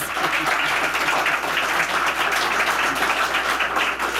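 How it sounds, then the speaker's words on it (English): An audience at a historical society's annual panel discussion applauds the panel participants, a dense, steady wash of clapping that stays loud and even throughout with no talk over it. "How about a round of applause for these great participants?"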